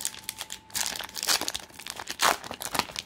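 A 1989 Fleer or 1990 Skybox basketball card pack wrapper is torn open up close, in a series of sharp crinkling and ripping bursts separated by brief pauses.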